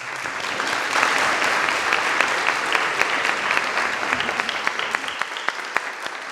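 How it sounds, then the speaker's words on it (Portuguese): An audience at a university law rhetoric competition claps steadily for several seconds, a dense, close wash of applause that thins slightly toward the end. "uma salva de palmas."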